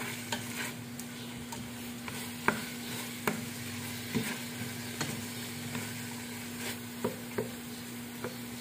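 Meat seasoned with salt stir-fries for Mongolian barbecue, a steady sizzle under a low hum with repeated scraping and clacking strokes of a utensil against the pan at an irregular pace.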